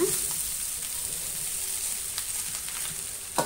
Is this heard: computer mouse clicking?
no